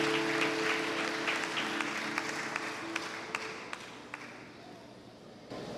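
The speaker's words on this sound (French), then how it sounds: "Sous vos applaudissements, s'il vous plaît." A church congregation at a Sunday worship service applauds, a broad steady clapping that slowly thins out with a few distinct louder claps near the end, while a voice talks briefly over it.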